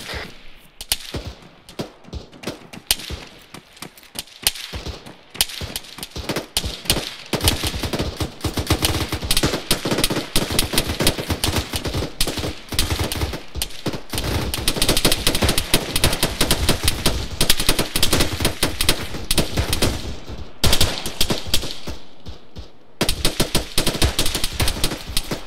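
M240 machine gun firing in ARMA 3 during a platoon training operation on Bozcaada: long, loud bursts of automatic gunfire, near and sustained, with brief pauses between strings of shots and mixed with other weapons fire.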